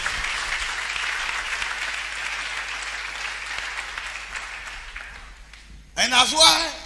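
A church congregation at a Sunday service applauding to acclaim Jesus Christ, sustained loud clapping from a crowded room that fades near the end before a voice speaks over it.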